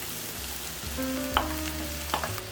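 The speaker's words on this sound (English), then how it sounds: "So we're going to cook this until your spinach is nice and wilted" Garlic, peppers and spinach cook in a pan for a Mediterranean frittata, a steady close frying sizzle with a couple of light utensil taps, heard alone without talk.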